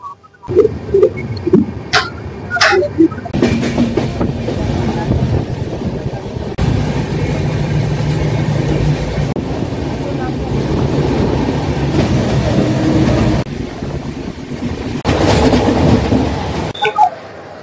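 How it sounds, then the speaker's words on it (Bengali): The Poorva Express on the Howrah to Delhi run rolls out past Durgapur station, a steady loud rumble of wheels and carriages with faint clicks and rattles. A few brief knocks come early, then the noise holds even to the end. "রাইট টাইমে কিন্তু ছেড়ে দিল আমাদের ট্রেন দুর্গাপুর রেলওয়ে স্টেশন"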